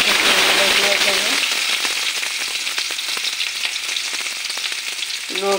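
Finely chopped onion fries in a pan with a loud, close, steady sizzle and crackle, with brief scraping stirs at the start and end.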